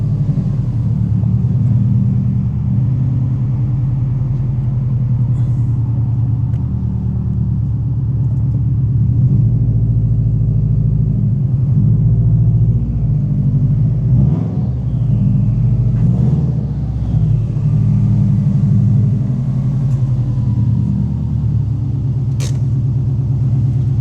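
A Subaru WRX, freshly repaired clutch, drives off with a steady, loud engine rumble and road noise throughout, the engine note swelling slightly under acceleration with no talking.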